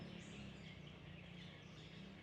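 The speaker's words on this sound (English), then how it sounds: "You got the birds chirping." Birds chirping in a small urban park in Bangkok, Thailand: faint, high twittering calls drift over a steady wash of distant city background noise.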